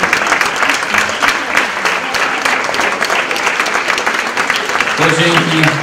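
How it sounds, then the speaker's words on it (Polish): An audience at the fifth Women's Congress in Wschowa gives warm, sustained applause for Klaudia Dietrich. The clapping is continuous and loud, and a voice speaks over it near the end. "Drodzy Państwo, bardzo proszę o wielkie brawa pani Klaudia Dietrich"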